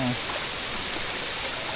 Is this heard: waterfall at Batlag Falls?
yes